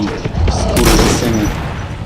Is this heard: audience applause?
no